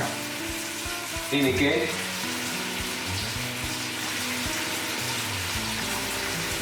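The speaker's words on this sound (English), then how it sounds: "You can hear it sizzling away." Wild garlic and other soup ingredients sizzle and fry in a pan, a steady crackling hiss with a brief stirring clatter early on, while someone says a few words over it.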